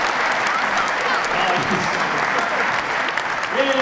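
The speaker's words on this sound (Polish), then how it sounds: "Brawa dla Klaudii" Applause breaks out for Klaudia, the only woman in the audience at a Congress of the New Right (Kongres Nowej Prawicy) political meeting: steady, dense clapping from a sizable crowd throughout, fairly loud and close, with some voices mixed in.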